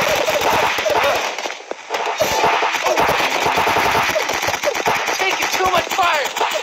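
Paintball markers firing in Greg Hastings Paintball, a fast, loud, continuous rattle of snapping shots with a brief pause, mixed with some voice sounds.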